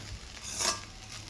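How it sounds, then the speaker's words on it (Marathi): A spatula briefly scrapes and turns tawa pulao rice in a pan, a single soft stroke over a faint background sizzle. "मी एकदा हलवून घेते"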